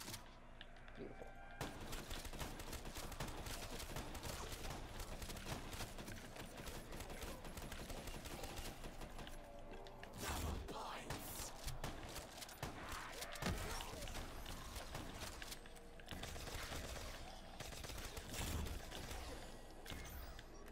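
The Raygun Mark II fires without letup in Black Ops III Zombies, a dense, loud stream of energy blasts mixed with game effects, with a voice talking over it.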